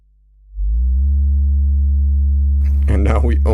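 A self-oscillating MS-20 style low-pass filter on a DIY modular synth, the late MS-20 HP and LP VCF design, fades in as a steady low resonant tone with harmonics. Near the end a burst of noisier, brighter sound joins it.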